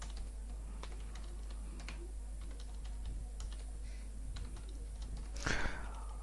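Employee salary figures are typed into a spreadsheet on a computer keyboard, a quiet steady patter of key clicks over a constant low hum, with no talking and a brief louder rustle near the end.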